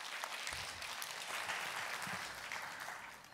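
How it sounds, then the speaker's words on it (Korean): A conference hall audience at a Korean forum applauds to welcome a speaker, with even, sustained clapping that is faint and distant throughout. "큰 박수로 좀 맞이해 주십시오"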